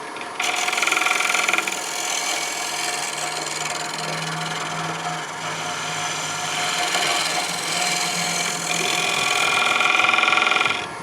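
Negative-rake-style lathe scraper, not ground as one, cleaning up a wood turning on a lathe: a steady, continuous scraping and whirring hiss with machine hum, moderately loud and close, no talking.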